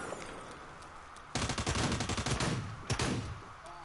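A loud, close burst of video game shotgun fire on PS4 breaks out of low background noise, with rapid cracking shots for about a second and one more sharp blast shortly after.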